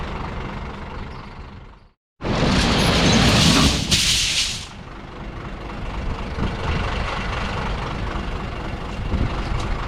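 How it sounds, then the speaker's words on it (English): Truck engine idling at a house construction site, a loud, broad diesel rumble with a burst of hissing air after a brief dropout, then a steady lower idle continuing. "They backed the truck up, got it off the street."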